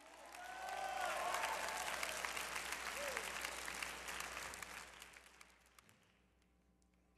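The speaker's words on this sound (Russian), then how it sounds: "Ты можешь и громче аплодировать." A church congregation applauds steadily for several seconds during a sermon, then the clapping thins out and fades to near silence.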